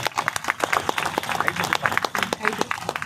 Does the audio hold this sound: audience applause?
yes